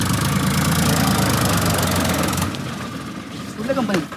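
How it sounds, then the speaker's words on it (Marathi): A Swaraj 744 tractor stuck in thick mud runs its engine with a loud, steady rumbling drone that cuts off abruptly partway through, leaving quieter background noise and a faint engine surge near the end. "आता पाहूया ट्रॅक्टर आलेला आहे इथे"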